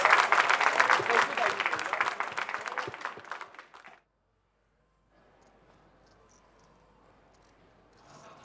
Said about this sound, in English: Let's give him a round of applause, Neil Arce.